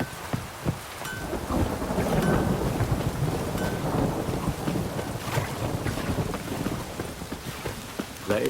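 Rain and a thunderstorm in the video game The Witcher 3: Wild Hunt on PlayStation 5, a steady wash of rain with low rumbling thunder and scattered hoof-like clops, no talk.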